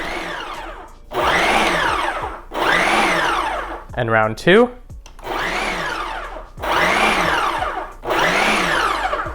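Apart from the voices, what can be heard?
food processor chopping salsa ingredients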